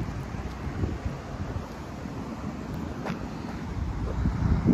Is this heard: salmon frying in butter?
no